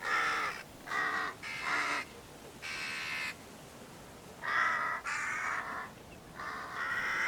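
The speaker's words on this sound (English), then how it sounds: "a couple of other birds have spotted it and have started calling an alarm" Jackdaws and other corvids, crows, rooks and magpies, calling in alarm over a field at sunrise, loud harsh caws in repeated bursts, several birds overlapping with short pauses between volleys.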